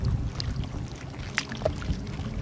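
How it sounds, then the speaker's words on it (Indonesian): Wind gusts across Cirata reservoir on Java, a broad steady rush with low buffeting against the microphone, joined by faint water lapping around a small boat or island shore; no talking. "Angin."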